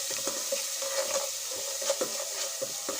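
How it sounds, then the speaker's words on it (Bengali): Spices sautéing with a little red chili powder in a pan for chicken korma, a dense steady sizzle broken by repeated soft stirring scrapes. "আর দিয়ে দিচ্ছি একটু সামান্য একটু লাল মরিচের গুঁড়ো। এখন খুব সুন্দর করে কষিয়ে নিচ্ছি।"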